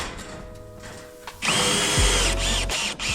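A power drill drives screws to fasten a piece of tin roofing back in place, heard close and loud in short whirring bursts that rev up and stop.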